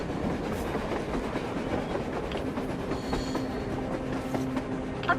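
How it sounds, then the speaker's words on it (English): In the Metro Exodus video game, a train rolls past on the surface, a continuous rumbling roar of wheels and carriages with faint metallic squeal and rhythmic clatter, moderately distant. "A train! A damn train on the surface!"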